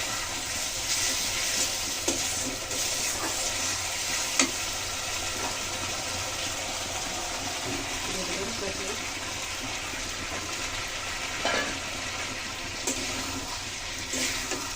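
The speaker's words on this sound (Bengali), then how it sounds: "মশলা দিয়ে তরকারিটাকে একটু কষিয়ে নেবো ভালো করে।" Cauliflower and potato curry with tomato and spices frying in oil in a pan, a steady loud sizzle throughout with a few faint clinks of a spoon.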